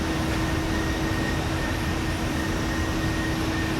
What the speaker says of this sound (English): What's that loud noise? That loud noise? It might be the plane.